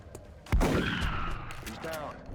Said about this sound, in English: so let's bring Adam in for the kill with rapid fire